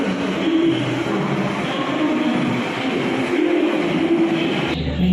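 Interior rumble of the Taj Express train at New Delhi railway station, a steady loud rolling roar with low carriage hum throughout, ending with a brief change near the close.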